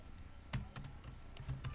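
Quiet typing on a computer keyboard, a handful of crisp, irregular key clicks spaced across under two seconds, close and isolated with no talking.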